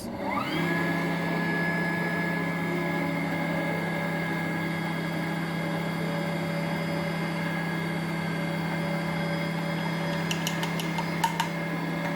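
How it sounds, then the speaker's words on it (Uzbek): A laboratory mill grinds wheat grain for a second pass, giving a loud, close, steady motor whir with a high whine that holds unbroken throughout, with no talking. "bug'doy doni yetarli darajada maydalikka ega bo'lishi uchun uni yana bir marta maydalab olamiz"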